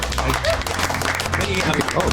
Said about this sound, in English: You get a nice round of applause here, old friend.